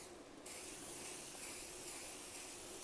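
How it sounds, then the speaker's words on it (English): Cooking spray hisses from an aerosol can into the bottom of a Power Air Fryer Oven Elite, a steady close spray running the whole time after a brief quieter start. "I'm going to spray it at the bottom"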